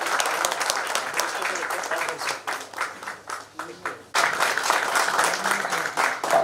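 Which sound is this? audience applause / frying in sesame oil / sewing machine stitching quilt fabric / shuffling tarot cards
audience applause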